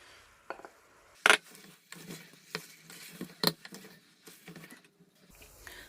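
Radish pods and chicken are sautéed over a medium flame in a pan, with irregular stirring scrapes, clatters and two sharp utensil knocks against the pan over a low sizzle.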